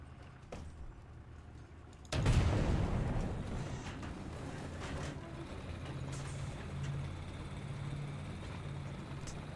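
A tank engine roars in the War Thunder video game, starting as a faint rumble and then jumping suddenly into a loud, sustained, growling drone.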